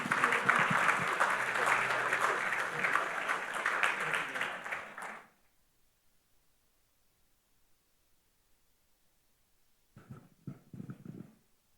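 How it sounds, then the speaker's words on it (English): Applause from the audience at the First Caribbean Global Awards 2023 ceremony, a dense, sustained clapping for about five seconds that stops abruptly, followed by silence and then a voice at the end. "Mr. Daniel Taylor, MBE, a round of applause, please."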